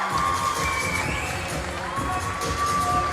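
A Netherlands crowd at a Paralympic swimming medal ceremony cheers and shouts in a dense, continuous roar that echoes through an indoor pool hall, with high-pitched voices and whistles mixed in.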